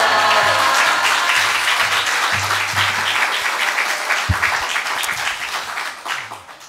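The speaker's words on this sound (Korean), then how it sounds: "할렐루야로 환호하며 맞아주시기 바랍니다" A church congregation at a special dawn prayer service applauds and cheers to welcome a missionary, loud sustained clapping with raised voices, full and close, tapering toward the end.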